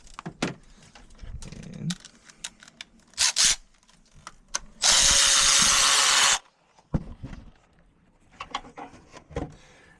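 Electric ratchet fitted with a 10mm socket working on the engine of a 2013 Chrysler Town & Country, giving one loud, steady whirring burst of about a second and a half amid scattered clicks and handling knocks.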